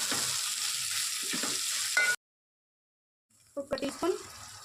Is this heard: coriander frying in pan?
yes